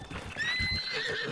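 A horse in Zelda Breath of the Wild whinnies with a long rising, wavering neigh over its steady clip-clop hoofbeats and in-game background sound, close and clear.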